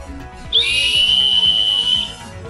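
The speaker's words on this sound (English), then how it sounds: "we have the emergency whistle. So simple stainless steel, and you just blow through this end here." A simple stainless steel emergency whistle blown indoors, one sharp, loud, steady shrill blast lasting about a second and a half, close up and alone.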